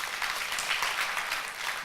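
A church congregation at a Sunday worship service claps briefly, a soft, even wash of hand claps with no voice on top.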